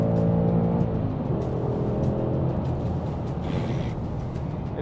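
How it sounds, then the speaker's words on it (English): A 2023 Nissan Z sports car does a full burnout at a drag race launch: a loud, steady engine roar and tire noise held continuously for several seconds, easing slightly toward the end. "it's literally a full burnout with this car."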